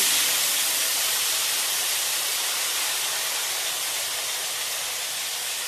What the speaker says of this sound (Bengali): এরপর গ্যাস কমিয়ে সবজিগুলোকে খানিকক্ষণ ভেজে নেব